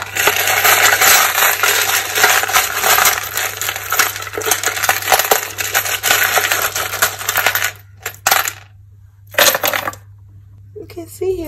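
A full box of pendulum charms rattling and clinking continuously at close range, a dense metallic jangle that breaks off in short gaps near the end.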